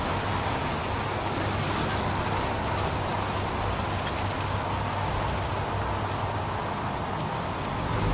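Rain falls steadily and densely in the Heavy Rain video game, a loud, even hiss that continues without a break.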